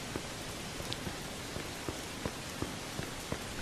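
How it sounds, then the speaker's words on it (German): Rain falling in the video game Mafia 2, a steady dense hiss of downpour with scattered drops tapping on surfaces, continuous and even, no voices. "Jetzt stehe ich im Regen."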